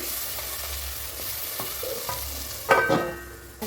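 Tomatoes and onions being sautéed in a pan for fish curry give a steady sizzle with intermittent scraping stirs and a louder clattering scrape toward the end, with no voices.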